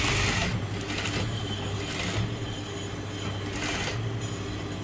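A sewing machine stitches a shirt sleeve alteration, running as a steady continuous mechanical whir at close range with brief changes in pace, and no talk over it.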